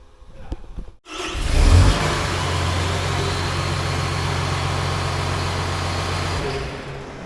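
An ex-military John Deere 850J dozer, cannibalized for parts, cranks briefly, then its engine catches with a loud low roar and settles into a steady heavy idle that runs for several seconds.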